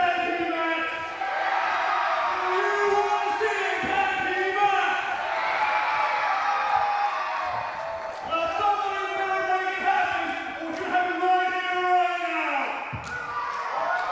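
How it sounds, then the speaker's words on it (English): Wrestling crowd at an East Coast Pro Wrestling show roaring and cheering in a large hall, with loud voices and shouts sustained throughout and brief dips. "This crowd wants to see more action."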